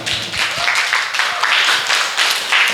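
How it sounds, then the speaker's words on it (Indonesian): Audience applause at a positive-culture dissemination session for teachers, a dense spread of clapping with a few sharper hand claps up close, steady across the whole stretch. "Tepuk tangan untuk kita semua"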